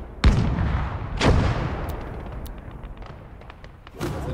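An infantry gun fires in a Gates of Hell Ostfront battle: two loud, deep booms about a second apart, each trailing off into a rumble, then a third softer thump near the end.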